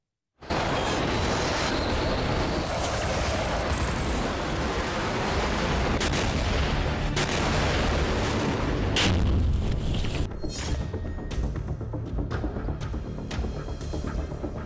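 Explosions from Russian strikes in the Ukraine war, a dense and loud roar of blasts and rumble that continues throughout, with a heavy boom partway through.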